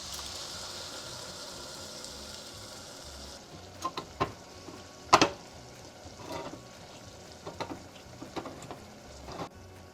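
Tomatoes with their juice sizzle in a pan in a Webkinz cooking game, a soft, steady frying hiss broken by several sharp clicks and pops.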